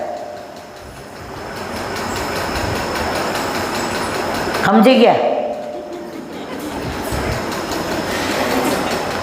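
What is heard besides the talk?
moving train on rails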